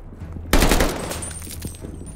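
Flamethrower firing in the Call of Duty Vanguard video game, a sudden loud roaring whoosh that starts sharply and sustains as a dense rushing blast to the end.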